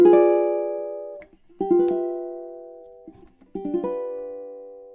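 Ukulele chords from measure 30, strummed slowly and left to ring in a moody style: three close, clear strums, each sustaining and fading before the next.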